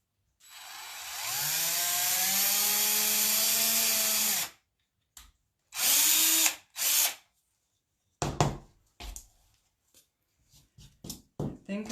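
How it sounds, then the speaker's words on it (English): Power drill bores holes in a craft piece for fabric-covered Easter eggs, starting with a long steady whine of about four seconds, then a few short bursts and quick stuttering pulses, loud and close. "Now I need to drill holes in here."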